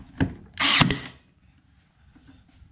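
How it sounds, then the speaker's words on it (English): A handheld stapler drives a staple into an ammo can build, two sharp close clacks, the second a longer burst, in a quiet workshop. "Put a staple in there,"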